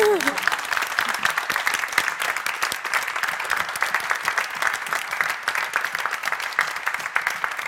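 Audience applause after an open-table art event at the 2017 Venice Biennale, a steady dense clapping that fills the whole stretch at an even level with no pauses.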